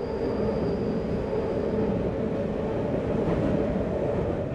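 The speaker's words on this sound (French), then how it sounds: "Il y a actuellement quasiment 700 rames de métro qui passent tous les jours dessus." A Paris metro train rolls across a bridge, a steady dense rumble with faint high whine and wheel rattle that holds at an even level throughout, with no voices.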